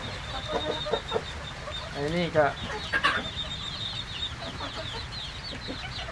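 Laying hens cluck and call nearby on a farm, with a few short clucks and one rising squawk over background noise, while someone speaks briefly.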